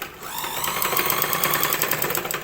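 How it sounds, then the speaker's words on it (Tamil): A sewing machine stitches along a drawn line on a blouse back panel, its rapid whirring needle rhythm running steadily and close by, alone. "அப்படியே நீங்கள் வரைஞ்சது மேலே தையல் போட்டு வரணும்."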